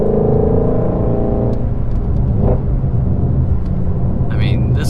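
Ford Mustang Shelby GT350 engine accelerating, a close, loud low rumble that swells briefly and then eases, with faint voices in the cabin.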